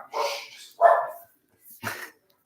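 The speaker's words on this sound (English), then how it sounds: "it's my dogs" Several dogs bark indoors in three separate bursts, loud and close, each with short gaps of silence between them and no speech over them.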